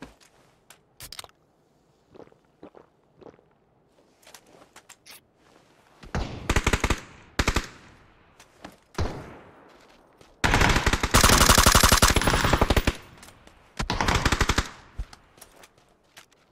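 Rapid automatic gunfire in a video game, loud bursts of machine-gun fire alternating with scattered single shots and short quiet gaps, heard without talking.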